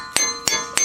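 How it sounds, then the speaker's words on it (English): A hammer taps on a wheel hub being fitted to a Jeep Cherokee during a wheel bearing and hub replacement, three sharp metallic clinks evenly spaced with ringing tones between them. "take the hammer, just tap it once, just to make sure it goes on"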